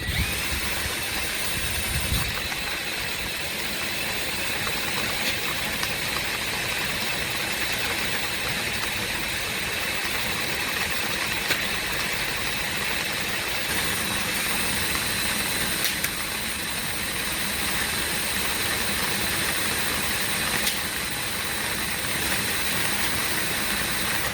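Ryobi and Popoman drain augers run side by side, their motors producing a loud, continuous whirring drone with a steady hiss, close and unbroken, with no one speaking.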